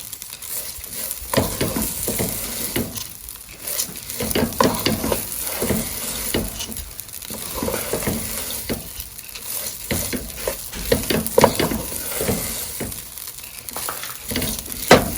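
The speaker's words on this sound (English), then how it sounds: "I'm just letting my rice get a little bit toasty" Rice for pilaf toasts and stirs in a hot pan, giving a steady close sizzle broken by repeated scraping, stirring strokes across the whole stretch, with no one talking.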